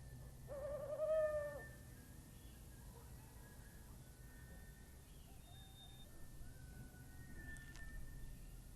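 Owls hooting in a forest at night, a clear hoot early on followed by fainter, more distant calls over a steady low background hum.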